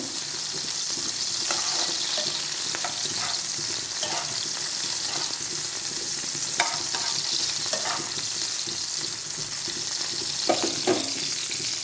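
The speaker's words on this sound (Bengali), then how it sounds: "এখন আমি আমার করলা গুলো দিমু, মলা আস্তে আস্তে করে করলা রান্না করবো।" Bitter gourd with onion and green chili stir-fries in a pan, with a continuous loud oily sizzle and soft scattered scrapes of a spatula throughout.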